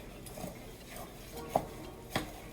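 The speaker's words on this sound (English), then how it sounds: "And just kind of stir all that in." Snow ice cream with sugar being stirred in a bowl: soft scraping swirls with a few sharper clinks of a spoon against the side, quiet and close.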